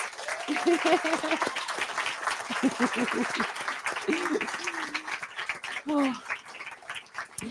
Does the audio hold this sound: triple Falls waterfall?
no